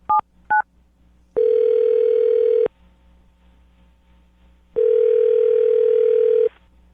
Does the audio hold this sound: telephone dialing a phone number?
yes